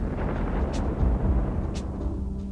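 Autocannons fire in a space battle in the EVE Online video game, a dense low rumbling barrage with a couple of sharper bursts over a steady droning ship hum.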